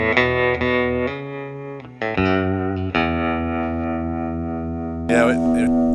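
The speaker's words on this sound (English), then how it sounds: "you got the old like spaghetti western style tremolo and delay and reverb going on" Electric guitar played through spaghetti western style tremolo, delay and reverb, sustained notes ringing and pulsing with a wash of echo, moderately loud, a brief voice near the end.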